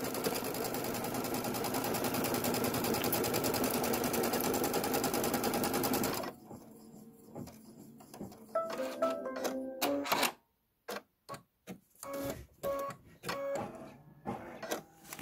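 An embroidery machine stitches a tack-down line on a leather pennant: a dense, steady mechanical whir at first, then stopping and restarting in short rhythmic stitching bursts.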